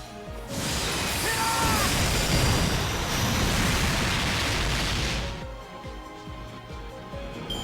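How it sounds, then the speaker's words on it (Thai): Arash's explosive attack in Fate/Grand Order erupts as a loud, roaring blast that holds for about five seconds, then cuts off sharply and leaves a quieter game background. "ตัวอารัสมันบึ้มแรงอยู่แล้ว แน่นอนบึ้มไปเลยจ้ะ"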